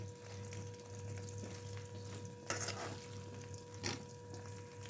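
Okra (bhindi) frying in oil in a kadhai, a soft steady sizzle under faint electrical hum, with a couple of brief louder scrapes of stirring against the pan.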